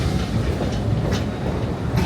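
Roaring Camp Railroads train in Santa Cruz cruising down the line, heard from aboard the rail cars: a loud continuous rumble with rhythmic clickety-clack of wheels over rail joints.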